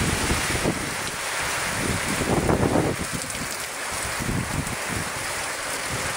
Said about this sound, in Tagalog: grabe yung lakas ng hangin